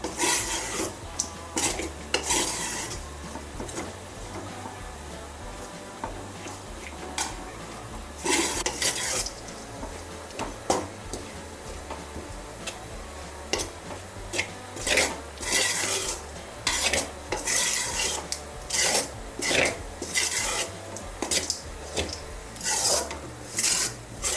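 Idiyappam being tempered in a pan, a utensil scraping and stirring against the metal in repeated rasping strokes that come in bursts, close and fairly loud, with no voices.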